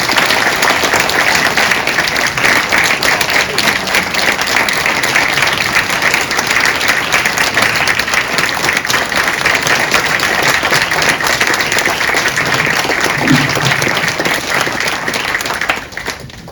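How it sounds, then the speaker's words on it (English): Long, steady applause from an audience for Gordon, a dense, even roar of many hands clapping that holds for over fifteen seconds before tapering off, with only faint voices underneath. "let's give Gordon a round of applause"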